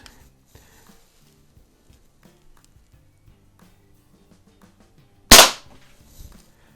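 A single sharp, loud crack from a CO2-powered .22 caliber air pistol, an Ampell Acro 1 or Crosman SA6, stands out after several seconds of near silence with faint handling clicks, followed by a brief softer thud.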